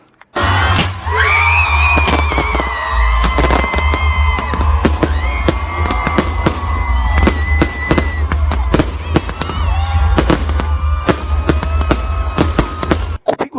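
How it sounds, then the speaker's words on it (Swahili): Fireworks for the New Year 2020 celebration in Mombasa crackle and bang in dense, loud bursts, with whistling rockets and a cheering crowd underneath. "kwa vifijo na sauti za fataki wa Kenya walishangilia kuvuka mwaka 2020."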